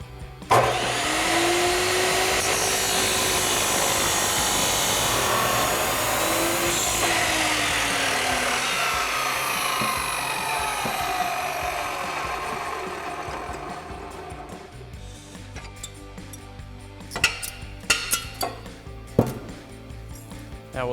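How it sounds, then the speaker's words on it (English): A chop saw cuts through a metal exhaust pipe for a Ford F-150 EcoBoost system, with a long loud whining grind that winds down, followed by scattered clanks and knocks of metal being handled. "We have a chop saw, so we're going to go over to that, set this up, and get it cut down to size."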